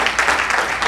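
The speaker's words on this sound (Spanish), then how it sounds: "Dale ese fuerte aplauso al Señor." A church congregation breaks into loud, dense applause, a continuous wash of clapping filling the short moment with no break.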